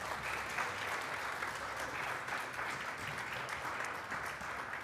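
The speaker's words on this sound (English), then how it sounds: "Please give them another round of applause." An audience applauds at the end of an afternoon performance, steady, even clapping heard from a distance at low volume for several seconds.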